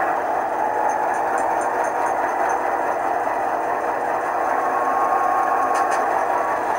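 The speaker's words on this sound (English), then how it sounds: "Now you're going to hear it notch up to notch 6." A model P42 diesel locomotive fitted with a Tsunami2 sound decoder produces a steady, continuous engine drone with no talk, holding at an even level throughout.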